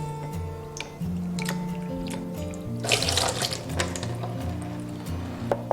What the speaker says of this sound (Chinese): 加入清水淘洗一遍